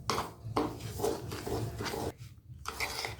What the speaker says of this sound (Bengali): এবার টক দইটা সুজির সঙ্গে কিছুক্ষণ মিশিয়ে নেব।